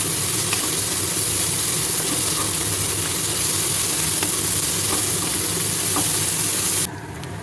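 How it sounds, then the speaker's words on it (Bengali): Chopped onions fry in a pan with a steady, even sizzle and hiss, close and continuous, before the sound drops away abruptly near the end. "এরপরে আমি পেঁয়াজ কুচি দিয়ে দিয়েছি, পেঁয়াজগুলোকে খুব ভালোভাবে ভেজে নেব।"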